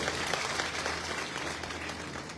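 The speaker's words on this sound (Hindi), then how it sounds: "उसके लिए ताली बजा के आप स्वागत करें।" An audience at a Congress Scheduled Caste convention rally in Rajgarh, Churu applauds with a dense, sustained wash of clapping at moderate distance, steady throughout.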